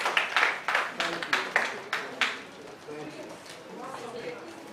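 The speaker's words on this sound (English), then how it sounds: "A round of applause, please." Brief applause for a speaker being welcomed at a business growth event, a handful of sharp claps in quick bursts over the first two seconds, then fading into room murmur and chatter.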